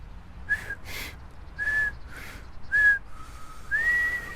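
A person whistles a series of short, clear notes with gaps between them, ending on a longer held whistle, close and fairly loud, with breathy attempts mixed in.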